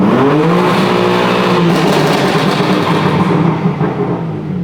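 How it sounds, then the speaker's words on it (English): A car engine revved at wide open throttle, a loud, sustained roar that climbs steadily in pitch and then eases off at the end, heard close and without talk. "I'll stab the throttle, and we'll see the shift indicator come up."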